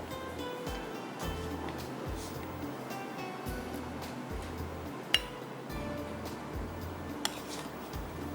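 Chocolate mousse mixture spooned into serving glasses, with a couple of sharp, bright glass clinks standing out over quiet scraping and soft background music.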